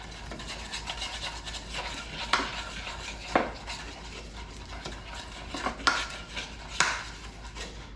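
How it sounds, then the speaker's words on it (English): Anchovy paste being blended with garlic and olive oil in a bowl, a steady soft scraping and stirring with a few sharper clinks of a utensil against the bowl, close and fairly quiet. "So I'm going to blend that in with the garlic and the olive oil."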